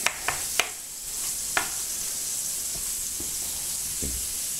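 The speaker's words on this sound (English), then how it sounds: "Here, them balls are sizzling." Venison balls sizzle in a frying pan, a steady hiss of frying broken by a few sharp pops and clinks of a utensil against the pan.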